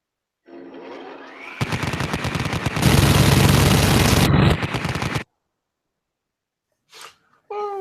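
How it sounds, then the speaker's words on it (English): A minigun sound effect fires rapidly in one loud, dense, buzzing burst of several seconds, preceded by a whirring spin-up. Brief voice sounds follow after a pause. "That's the minigun shooting."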